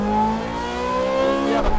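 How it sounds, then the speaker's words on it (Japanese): An Audi R8 and a Nissan GT-R launch hard at the start of a race, the R8 spinning its wheels despite all-wheel drive. Engines rise together in a loud climbing roar, ending in a short burst near the close. "R8 は AWD ながら大ホイールスピン。"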